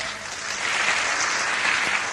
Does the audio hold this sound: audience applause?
yes